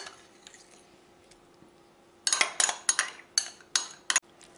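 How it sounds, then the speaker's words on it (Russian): Salad ingredients are mixed with mayonnaise in a bowl, heard as a run of wet squishing stirs and light utensil clinks against the dish after a quiet opening, close and moderately loud. "Оставшееся мы все перемешиваем с майонезиком."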